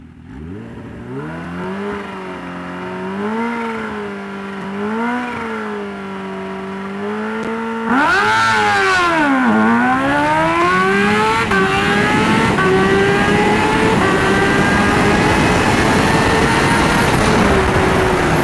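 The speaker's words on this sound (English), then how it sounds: "The bike hooked really hard right there." A turbocharged Suzuki GSX-R 750 drag bike idles and blips its engine with rising and falling revs, then launches hard down a drag strip, a loud, close engine roar climbing steeply through the gears with no talking.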